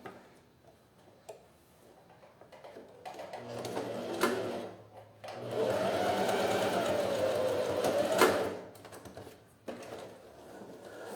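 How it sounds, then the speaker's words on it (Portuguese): A sewing machine stitches along the edge of fabric, running in short bursts with a rapid mechanical whir that builds to a steady run of a few seconds before stopping, close and moderately loud. "Então, eu vou vir aqui e costurar bem na beiradinha."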